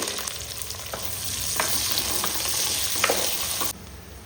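Garlic, crushed ginger and onion fry in a pan with a dense, steady sizzle and a few scraping stirs, close and loud throughout, before the sound drops off near the end.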